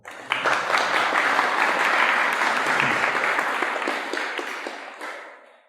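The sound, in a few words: audience applause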